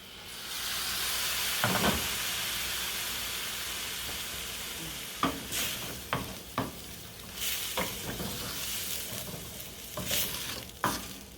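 Pumpkin risotto rice sizzling and hissing in a hot pan as a ladle of stock goes in, followed by repeated close scraping stirs of a spoon through the thick grains.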